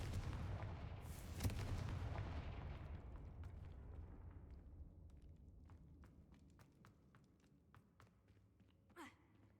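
A Confringo spell blast in the game Hogwarts Legacy booms loudly near the start, then a long rumbling decay trails off with scattered small pops and a short whoosh near the end.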